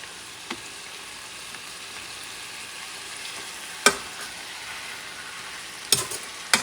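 Lamb chops sizzle in a pan for Spanish chuletas de cordero, a steady frying hiss broken by a few sharp scrapes and clacks as the pieces are stirred.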